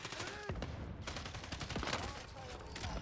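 Rapid gunfire in a battle-royale style shooter game, sharp close shots and bursts cracking at irregular intervals over a busy background, with a player talking now and then.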